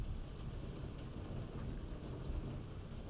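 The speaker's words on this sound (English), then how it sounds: "It is raining cats and dogs outside." Steady rain in Pokémon SoulSilver pours in a dense, continuous hiss with low rumbling underneath, even and moderately quiet throughout, no voices.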